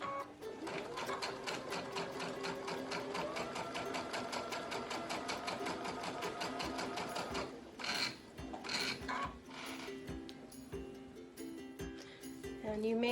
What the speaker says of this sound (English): we're sewing the overlapping fabrics to the top and bottom edge